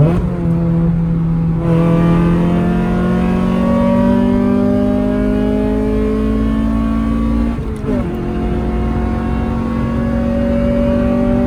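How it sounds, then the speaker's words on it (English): A GSR car engine revs hard in a second-gear pull and climbs steadily in pitch, loud and close, dips briefly as the gear changes, then pulls again. "gonna let Vila just do like a second gear pull or something, because I haven't heard the car in person."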